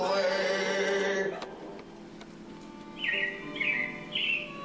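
Robins chirp in short bright bursts, three quick calls near the end, over a quiet background hum after a fading musical tune.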